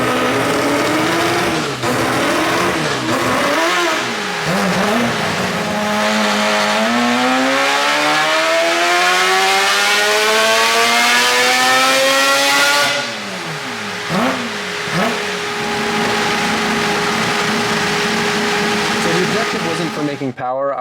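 Nissan S15 engine revving hard on a dyno, rising in pitch through a long sustained pull before dropping off, then idling and blipping, loud and close with a voice talking over part of it.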